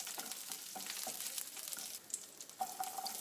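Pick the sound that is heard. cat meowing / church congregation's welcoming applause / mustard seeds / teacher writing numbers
mustard seeds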